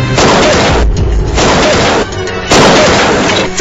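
Dense rapid gunfire bursts as a staged sound effect in a wartime comedy sketch, loud and continuous with a short dip in the middle before another heavy volley.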